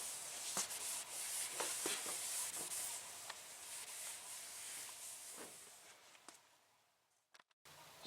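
Hand sanding a car body panel on a Monte Carlo SS before clear coating over vinyl stripe decals, a soft steady abrasive hiss with occasional stroke accents, close and quiet, alone.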